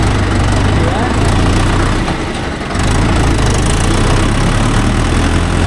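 A Mahindra Yuvo Tech Plus 585 4WD tractor working with a 42-blade rotavator drones loudly and steadily close by, its low rumble unbroken across the clip, with a short dip near the middle.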